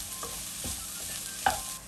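Noodle sauce ingredients stirred and fried in a pan over medium-low heat with salt added, giving a steady soft sizzle broken by a few scraping stirs, one sharper clatter near the end, no voices.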